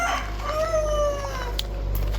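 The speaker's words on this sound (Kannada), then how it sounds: "ಕೋಳಿ ಬೆಳಿಗ್ಗೆ ಕೂಗೋದು ಬಿಟ್ಟು ಇವಾಗ ಕೂಗ್ತೈತೆ" A village rooster crows once, a clear drawn-out call rising and falling over about a second, heard at moderate distance above a low steady hum with no talk.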